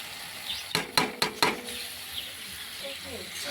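Jackfruit and spices are stirred in a frying pan: a handful of quick metallic clanks from a spoon against the pan rise over a soft sizzle, then fade into gentle scraping.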